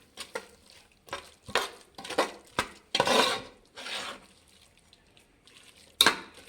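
Masala paste frying in a pan for fenugreek rice (menthya bath) is stirred with a utensil, giving a series of irregular scraping clinks and soft sizzling strokes, close and moderately loud, with no talking.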